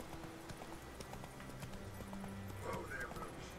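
Horse hooves clip-clop in an Xbox video game, a steady rhythmic trot heard under game music and voices, with a short whinny near the end.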